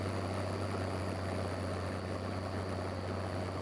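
A tractor engine in Farming Simulator 22 runs at a steady drone with a strong low hum and constant mechanical noise, close and unbroken with no talk.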